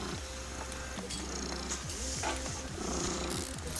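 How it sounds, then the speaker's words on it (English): A domestic cat purrs steadily and close, a low rhythmic rumble going on throughout, with faint background noise and no talk. "You might be able to hear him purring."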